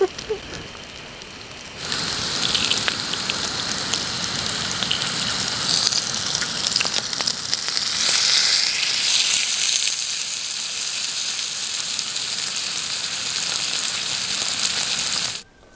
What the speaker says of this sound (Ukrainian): Ось так смажиться.